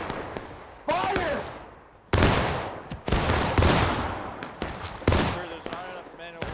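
Musket volleys in the Civil War game War of Rights boom out in several loud, ragged waves, each sharp crash trailing off in echoing decay, with shouting voices mixed in.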